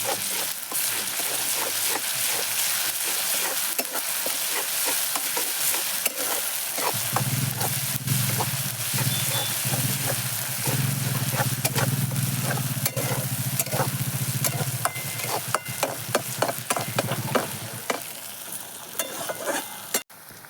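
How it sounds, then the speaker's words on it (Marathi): Onion frying in oil with garlic and coriander being stirred in a pot over a wood-fired village stove, a steady loud sizzle with continuous scraping stirs throughout, no talking. "आता कांदा आपला लालसर झालेला आहे लसूण कोथिंबीर टाकूया आणि छान हलवून घेऊया"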